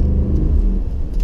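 The 5.0 V8 engine of a 2015-2016 Ford F-150 pickup truck revs close by, a deep, throaty low growl that swells and dips without any talking.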